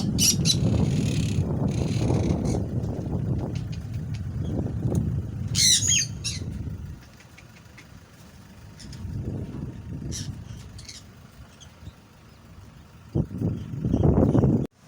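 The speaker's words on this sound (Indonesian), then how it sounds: "Ini sangkar burung untuk jemaah yang keluar dari masjid yang membawa anak bisa nonton burung di sini. Burungnya jenis kakak tua." Cockatoos in a cage outside a mosque squawk loudly in repeated harsh bursts, with a steady hum of nearby traffic beneath the calls.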